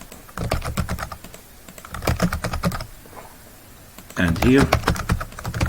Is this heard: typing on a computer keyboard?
yes